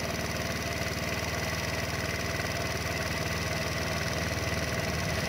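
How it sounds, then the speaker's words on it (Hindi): A motorbike belonging to hunters idles close by in a rural bird-watching spot, its engine a steady, even throb that holds without a break and with no talk over it. "ये शिकारियों की बाइक आकर रुकी"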